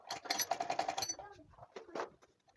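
A sewing machine stitching a tote bag runs in a fast, rattling burst close by, then stops, and a voice speaks in the quiet after.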